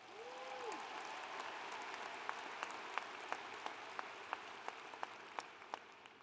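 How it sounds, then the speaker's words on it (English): A commencement ceremony audience applauds, a faint, distant wash of clapping with a few sharper individual claps standing out near the end. "Can we get a round of applause for the undergrads"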